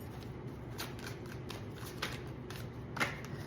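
Tarot cards being shuffled by hand, a quiet run of soft riffling flutters with a few sharper snaps, close and alone with no talking.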